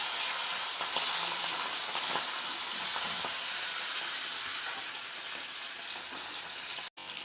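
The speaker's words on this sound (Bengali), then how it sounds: "কড়াইয়ে তেল গরম হচ্ছে, গরম হয়ে গেছে। ওই তেলের মধ্যে দিয়ে দেবো আমি মাছগুলো।" Hilsa fish pieces coated in salt and turmeric fry in hot oil in a wok, a steady dense sizzle with faint scattered crackles and light stirring, ending in a brief cut of silence.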